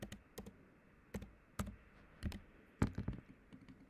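A student ID number being typed on a computer keyboard to log in to a library catalog: irregular, crisp key clicks in short bursts, close and fairly quiet, with no talking.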